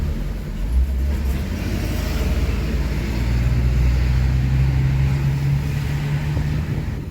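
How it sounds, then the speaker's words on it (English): City road traffic in Cancun, Mexico: a continuous, fairly loud rumble of engines and tyres with vehicles passing nearby and a low engine drone building toward the end, without speech. "We gotta try to get into the traffic."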